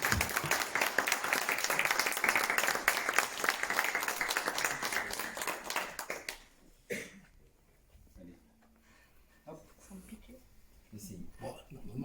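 Applause at a municipal council meeting: a dense round of clapping for about six seconds, then it fades into quieter room noise with a few scattered sounds.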